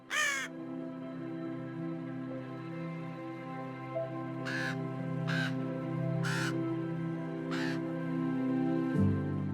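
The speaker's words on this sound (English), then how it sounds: "A raven crosses the taiga overhead, black against the grey" A raven flies over the Yukon taiga, giving four or five harsh, separated caws above a steady low droning background.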